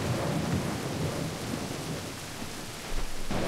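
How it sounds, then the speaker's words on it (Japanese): Thunder rumbling with heavy rain in a visual novel game: a dense, steady downpour hiss under a deep rolling rumble, ending in a sharper low crack near the finish, no voices. "雷の轟音とともに電気がぷつりと消えた。"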